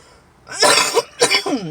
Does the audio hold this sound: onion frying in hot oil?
no